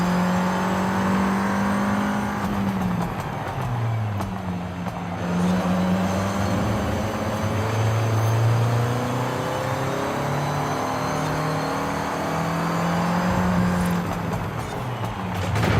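A 2014 Volkswagen Golf R engine pulling hard under acceleration on the road, with loud, sustained revving that climbs and drops through several gear changes, close and continuous, with no talk over it.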